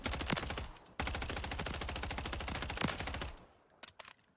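Rapid automatic fire from an MTZ-556 rifle in Modern Warfare 3 Zombies, a dense, loud, evenly spaced stream of shots in two long bursts, then a few scattered single shots as it trails off.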